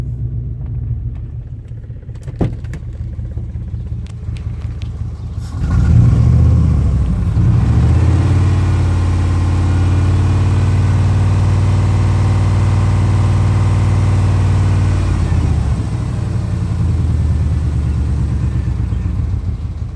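A 2002 Dodge Durango 4x4 with its 4.7-liter engine starts and idles steadily with a low, continuous rumble, running on its own without revving, close by and loud for most of the stretch.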